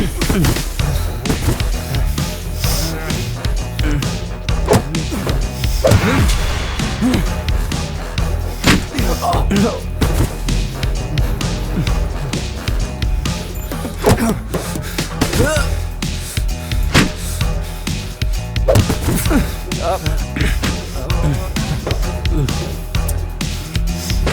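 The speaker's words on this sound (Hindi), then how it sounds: "मारो और मारो, जिंदा मत छोड़ना हरामजादे को।" Beating blows in a fight scene from a Hindi village film: loud, continuous thumps and slaps land in a steady barrage under shouting voices and a dense background score, with sharp hits spiking throughout.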